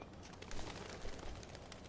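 A faint pigeon-like coo from a bird in the video game Life is Strange: Before the Storm, soft and brief over a dense background hiss.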